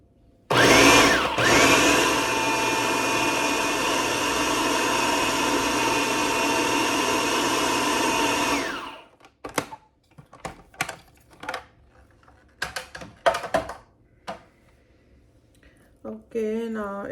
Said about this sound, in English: Now I'm start grinding it.